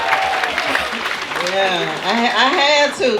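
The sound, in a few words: audience applause at comedy show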